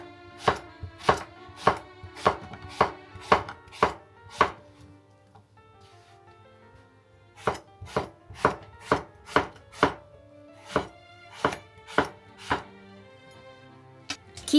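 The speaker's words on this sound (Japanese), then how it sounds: "縦半分に切ってから斜めの薄切りにしましょう。" A knife slices eggplant on a cutting board in crisp, evenly spaced chops, a quick run of about eight strokes, a short pause, then another steady run, close and clear with no talking.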